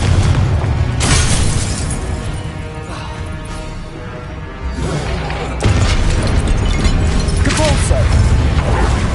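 Confringo blasting spell explosions in the Hogwarts Legacy video game, loud booming blasts and crackling bursts layered over dense battle noise and music, with swells at the start and again near the end.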